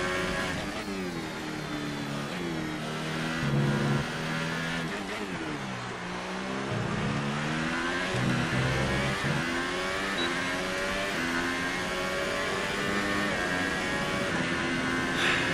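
Formula 1 race car engine in the F1 2018 racing game at the French Grand Prix, loud and continuous, revving up and down through gear changes as it accelerates and brakes, with no talking.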